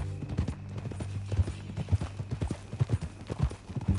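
Video game horse hooves from Red Dead Redemption 2 clip-clop at an unhurried walking pace, sharp rhythmic knocks close by over a low steady hum, with no talking.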